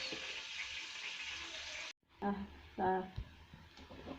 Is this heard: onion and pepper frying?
yes